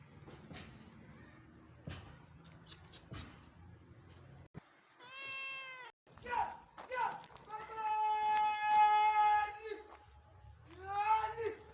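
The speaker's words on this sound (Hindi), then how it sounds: "म्याऊं म्याऊं कर रही है।" A cat meows several times, drawn-out cries close by, amid quiet background noises and occasional knocks.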